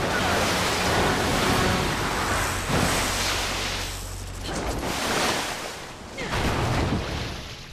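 Water rushing in Resident Evil 6, a loud continuous broadband roar and wash that swells and fades in slow surges throughout, with no speech over it.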